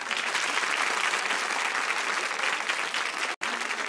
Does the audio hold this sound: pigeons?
no